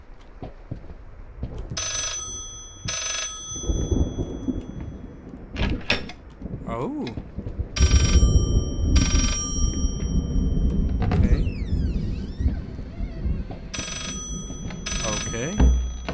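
In the Layers of Fear horror game, a telephone bell rings in repeated bursts among door and drawer clatters, while someone talks and reacts over the ringing.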